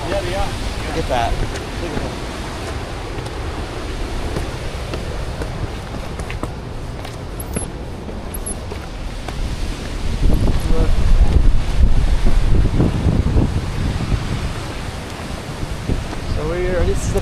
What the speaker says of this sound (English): So this is the Mediterranean Sea